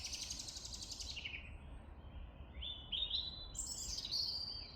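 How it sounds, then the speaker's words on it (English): A blackbird calls agitatedly in a front garden at dusk, its sharp repeated chirps and alarm notes rising in a few bursts amid faint background noise, sounding moderately near. "Oh my goodness, the blackbird is upset."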